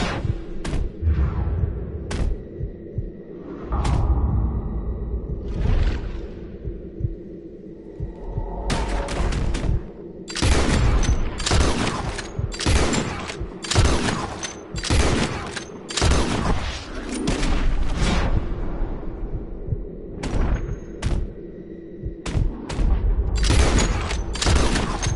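Gunshots in the Red Dead Redemption video game: a few scattered cracks open, then a dense, rapid volley of loud, sharp reports over a low rumbling background, with no talk.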